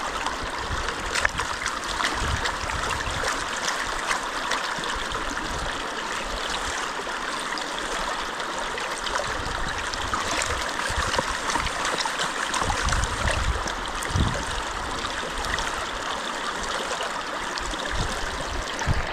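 Water flows and splashes steadily at a stream inside a historic silver mine during gold panning, a continuous broadband rush with occasional small knocks and sloshes, no talking.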